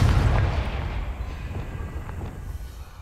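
A Confringo fire spell explodes in Hogwarts Legacy, a loud booming burst at the start that rumbles and fades over a few seconds.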